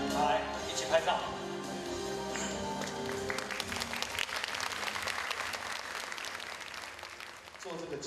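An awards ceremony audience applauding as a volunteer kitchen team, the first group of award winners, is welcomed, with a speaking voice at first and then a broad wash of many hands clapping that fades near the end.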